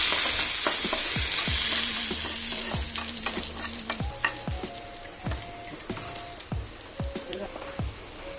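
Onions and curry leaves fry in a pan, a bright continuous sizzle up close with a spoon clinking and scraping through it at irregular intervals.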